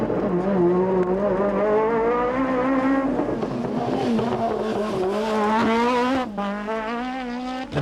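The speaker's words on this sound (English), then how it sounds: "Now watch the sequential change on the Megane." Renault Megane Formula 2 kit car revving hard on a rally stage in 1996, the engine note climbing and dropping through loud, close sequential gear changes with a brief cut near the end.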